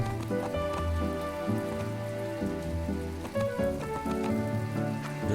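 Steady rain falls in the video game My Time at Portia, a constant dense patter on surfaces beneath a sustained layer of game music, even and unbroken throughout.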